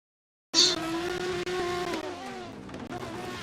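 Tires squeal in a drift racing video game as a car drops both tires on initiation at Yas Marina, a sudden sustained screech over a revving engine that wavers and pulses for about three seconds.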